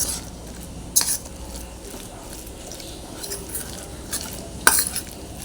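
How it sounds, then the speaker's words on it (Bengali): Mashed eggplant being kneaded by hand with gram flour (besan) for kofta, giving soft, quiet squishing with a few sharp clicks and taps scattered through it. "ভালো করে বেগুনটাকে মেখে নিচ্ছি"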